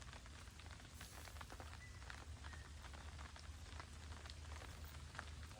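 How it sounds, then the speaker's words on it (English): Steady rain pattering on surfaces at a nighttime campsite, a faint, even hiss with scattered drop taps throughout and no voices. "Well, it's starting to rain,"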